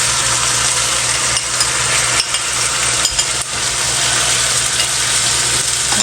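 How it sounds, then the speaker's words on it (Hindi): Ground tomato paste hits a hot frying pan while cooking a chicken and okra (bhindi) curry, giving a loud, steady, continuous sizzle that fills the whole stretch alone, with no talking. "अब इसमें ये टमाटर जो हमने पीस के रखे थे ये डाल देंगे।"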